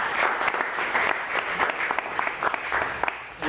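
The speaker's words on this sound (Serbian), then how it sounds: "Ja se izvinjam, još jedan aplauz." Audience applause after a book presentation, dense and steady clapping from a seated crowd filling the room at moderate level, continuing evenly throughout.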